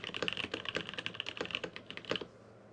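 Rapid typing on a custom Sirius 60 mechanical keyboard with Butter Cream switches and DSA Alchemy keycaps, giving a close, quiet burst of dense clacky keystrokes over almost three seconds with no talking.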